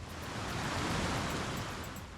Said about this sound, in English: And this is Isuhu Falls on Isuhu River.